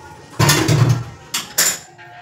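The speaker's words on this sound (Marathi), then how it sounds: "चहा आता गाळून घेत आहे" Boiled tea is strained, with metal utensils clinking and clattering as a pot and strainer are handled, a few distinct knocks, close and without speech.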